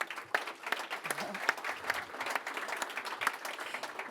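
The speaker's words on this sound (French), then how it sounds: "On peut applaudir aussi." Audience applause at the inauguration of the NETRI factory, a dense, steady patter of many hands clapping at moderate distance for about four seconds, with no speech over it.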